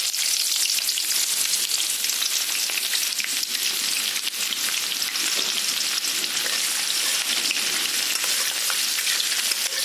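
Chopped onions fry in hot oil in a pan over a full flame with a loud, dense, continuous hiss and sizzle, close up and steady throughout with no voices.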